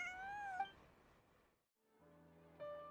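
A cute kitty in the video game Genshin Impact meows softly twice, the two calls separated by a short pause, with quiet game music behind them.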